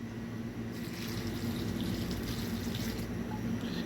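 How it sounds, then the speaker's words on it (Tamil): Steady running water pours from a kitchen tap into a pot, a continuous broad hiss with a low hum beneath it, close by and fairly quiet. "ஒரு ரெண்டு கிளாஸ் தண்ணி வைக்கணும்"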